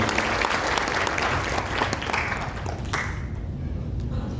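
Steady, dense applause from a large audience at a union event at PT Sumi Rubber Indonesia, sustained at full strength and thinning toward the end.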